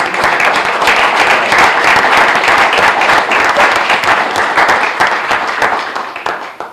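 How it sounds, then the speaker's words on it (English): A crowd applauds at a town's 150th anniversary founding celebration and reenactment, a dense, steady wash of clapping that holds loud and even before thinning and fading out at the end. "Round of applause."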